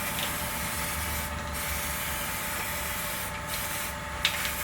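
Weld-through primer sprayed from an aerosol can onto the trunk floor of a 1971 Charger at spot-weld points, a steady close hiss with a few brief pauses between bursts.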